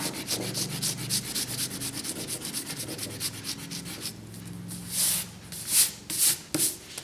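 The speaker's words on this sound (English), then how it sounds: "I'm going to erase my pencil lines" An eraser rubs back and forth across paper to remove pencil lines from a butterfly drawing outlined in black Sharpie, a steady scrubbing rhythm that breaks into several louder, separate strokes toward the end.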